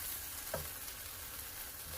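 Tacos filled with meat and cheese frying in a pan and turning crispy: a steady, close sizzle with a soft scrape partway through, and no voices.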